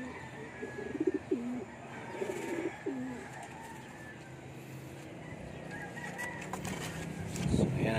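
Racing pigeons coo in a loft, several low throaty rolling calls in the first few seconds followed by a softer murmuring flock, with a brief fluttering burst near the end.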